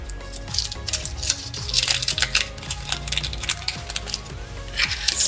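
Parchment paper squares crumpled by hand during kitchen food prep, a dense run of close, crisp crackling and crinkling that continues throughout over soft background music.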